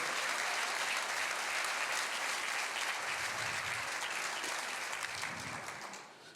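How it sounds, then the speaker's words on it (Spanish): Congregation applauding in a church service, a sustained, even wash of clapping from many hands that holds steady for several seconds before tapering off. "Dele un aplauso al Señor."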